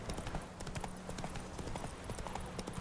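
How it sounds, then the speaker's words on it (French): Horse hooves galloping in The Witcher 3 on a road through Velen, a steady rapid clip-clop rhythm running throughout at moderate loudness over faint game ambience. "on va galoper"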